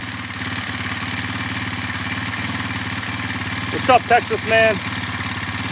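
A nitro 4-stroke engine in a radio-controlled model runs at a steady idle, a close, even buzzing drone throughout, with a voice speaking over it near the end.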